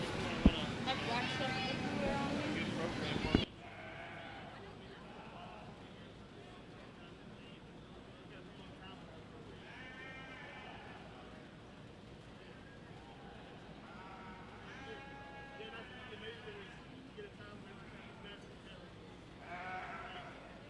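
Market sheep bleat at a county fair sheep and goat show ring, with several wavering calls scattered over a steady crowd and barn murmur, after a loud public-address announcement at the start.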